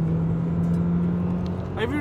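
A Lamborghini overtakes on an open road, heard from inside a BMW as a steady engine and road drone, with a rising engine note sweeping past near the end while people in the car talk excitedly.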